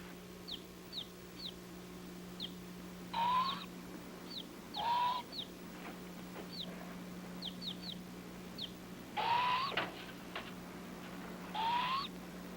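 Chickens in a coop give repeated clucks and short calls in bursts, with a few sharper higher chirps scattered between them, all over a faint steady background hum.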